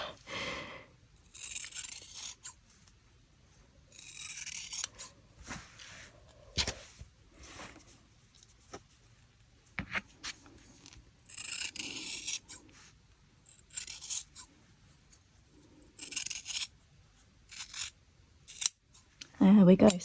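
Scissors snip through the knitted fabric of a steek in short, soft bursts separated by quiet pauses. The cuts are close and faint, with some rustling of the yarn.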